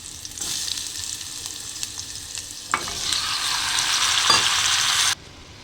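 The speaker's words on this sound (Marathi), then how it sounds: "जे चांगलं तडतडलं की यात मी ते अल्कोलचे तुकडे टाकते." Pieces of alkol (kohlrabi) sizzle in a hot tempering of spluttering mustard seeds and asafoetida. A spoon scrapes and stirs with occasional clacks, and the frying grows brighter before stopping abruptly near the end.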